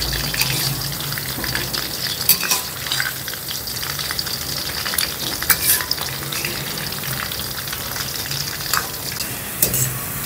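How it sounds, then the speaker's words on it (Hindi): Chicken pakora fries in hot oil over a low flame, a steady close sizzle and crackle throughout with occasional stirring scrapes and no talk. "तो इसको थोड़ा थोड़ा ना स्लो फ्लेम पर हमने पकाना है"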